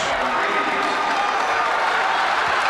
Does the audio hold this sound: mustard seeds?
no